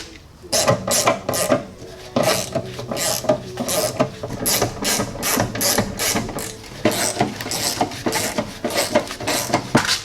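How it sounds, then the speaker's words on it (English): On a Jeep Cherokee, transmission mount bolts and nuts are tightened with a ratchet, giving a rapid run of loud, close clicking bursts in uneven rhythm with short pauses between pulls and no talk. "tighten down the outside bolts and nuts"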